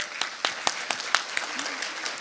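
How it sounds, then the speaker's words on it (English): Audience at a state mental health summit begins to applaud, with distinct separate claps at a steady rhythm, fairly faint and sparse in a large room, and a voice briefly heard underneath. "I want to get a warm round of applause"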